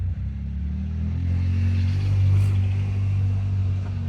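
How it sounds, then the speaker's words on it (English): Quad bikes (ATVs) on a farm tour give off a loud, steady low engine rumble with a deep droning hum that swells slightly mid-way, heard close by without speech. "This is the quad bike tours."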